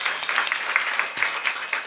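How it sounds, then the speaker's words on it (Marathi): An audience at a kirtan gathering in Pune applauds, giving a short burst of scattered hand claps at moderate loudness that taper unevenly with no speech on top. "सगळ्यांसाठी एकदा जोरदार टाळ्या होत्या."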